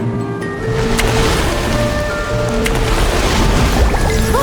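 Ocean waves wash steadily against a seashore, a loud, continuous broadband roar with no distinct breaks, close and enveloping.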